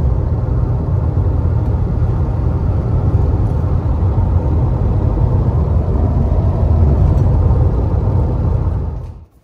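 A Mercedes W124 on a test drive gives a steady, low cabin rumble of engine and road noise, continuous and fairly loud for several seconds before cutting off abruptly.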